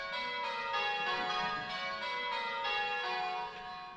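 Church bells rung on a bell ringing simulator chime one after another in a steady sequence of resonant, ringing strikes that overlap and sustain, clear and fairly loud with no voices.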